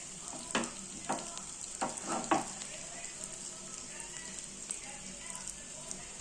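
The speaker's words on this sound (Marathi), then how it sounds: "आता त्यांना चांगलं फ्राय करून घेऊ।" Eggs fry in a pan with a steady, bright crackling sizzle, and several scraping stirs rise above it early on.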